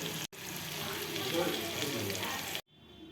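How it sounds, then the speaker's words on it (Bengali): Nine prawns frying in hot oil in a pan, a steady close-up sizzle with faint stirring, broken by a brief cut near the start and ending abruptly. "এবার আমি চিংড়ি মাছ ভেজে নিচ্ছি।"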